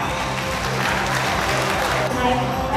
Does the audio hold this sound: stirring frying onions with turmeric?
no